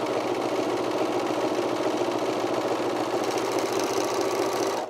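A sewing machine stitching a camisole, a steady close mechanical whir with fast rhythmic needle chatter running unbroken for several seconds.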